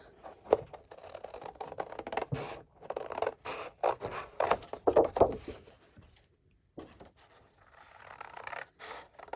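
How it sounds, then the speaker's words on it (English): Cloth scissors snip and slice through fabric in a run of crisp close cuts, with short pauses between strokes and no talking. "those are my cloth scissors."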